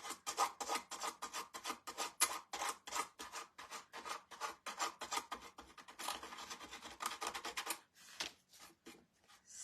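Hand sanding of a wooden bird house, close-up rapid rasping strokes in a steady back-and-forth rhythm that run for several seconds and then slow near the end, with no talking.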